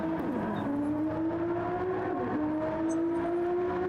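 A race car engine in Gran Turismo 7 drones steadily, pitch climbing through gears with a brief dip at a shift, loud and continuous without talk.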